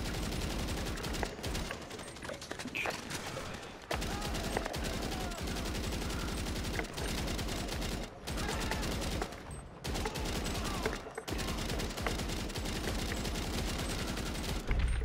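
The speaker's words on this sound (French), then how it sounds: "Oui, je tire dessus." Rapid bursts of automatic gunfire fill a GTA 5 Online survival-mode match, dense and loud with only brief pauses between volleys, while players talk quietly underneath.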